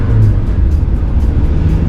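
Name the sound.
1999 Mazda Miata original engine running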